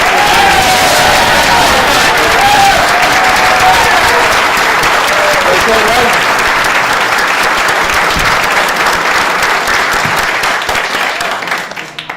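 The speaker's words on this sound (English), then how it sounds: "Let's give Big Frank a round of applause" A large audience at a public event on Staten Island breaks into loud, sustained applause, a dense steady clatter of many hands lasting about twelve seconds before trailing off, with no speech over it.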